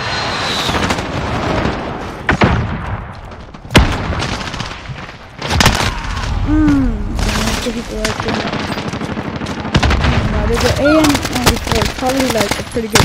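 A video game battle with a precision airstrike: loud booming explosions and bursts of rapid gunfire pile up densely throughout, with whistling tones over a constant roar of combat.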